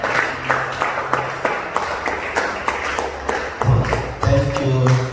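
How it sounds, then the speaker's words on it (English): Applause from the audience at a book launch, irregular clapping in a hall with a low hum underneath and some tonal sounds near the end. "A round of applause for him."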